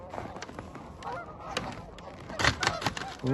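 A large flock of birds bigger than ducks honks and calls in a goose-like clamour, many overlapping cries at moderate distance, faint outdoor noise beneath.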